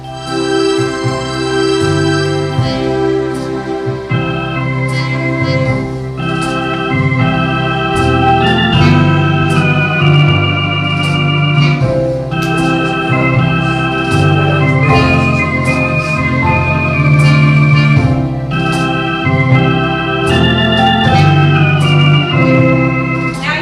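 A piano plays a lively melody in thirds, steady and continuous at moderate loudness, with no voices.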